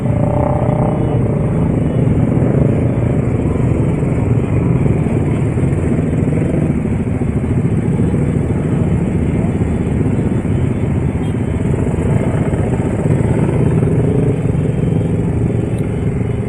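Motorcycles rev their engines in a Bandung street as football fans celebrate a Persib championship, a continuous loud low engine rumble with surging throttle blips and traffic noise around.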